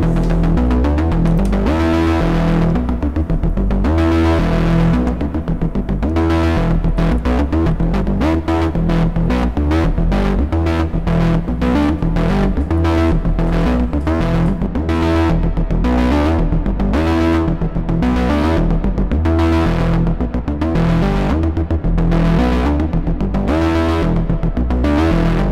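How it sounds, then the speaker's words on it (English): A Eurorack modular synthesizer plays a patch in which an LFO modulates the envelope, spread wide across the stereo field. It makes a loud, continuous stream of rhythmic pulsing tones whose repetition rate shifts as the sound goes on. "we can connect an LFO to the envelope"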